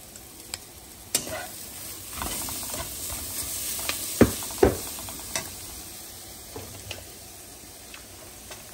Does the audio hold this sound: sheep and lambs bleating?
no